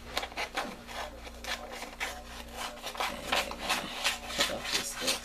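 Scissors cut away excess canvas from a diamond painting kit, a steady run of close, crisp rasping snips and rubs repeating across the whole stretch, with no talking.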